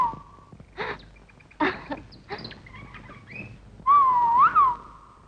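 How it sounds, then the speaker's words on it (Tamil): An Asian koel calls in a film scene, giving a few clear, whistled notes that rise and fall, including a loud sweeping call near the end, set against quiet background sounds. "இந்த குயில் இனிமையா கூறது கேட்கும் போது உனக்கு என்ன தோணுது?"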